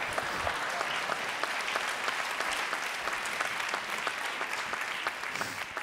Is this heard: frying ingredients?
no